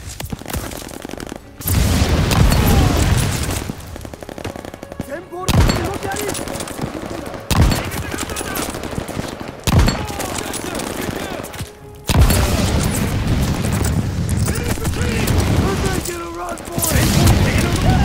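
Dense gunfire and explosions in the World War II shooter Call of Duty: Vanguard, with repeated loud bursts, rapid automatic fire and heavy booms broken by brief lulls, and battlefield voices mixed in.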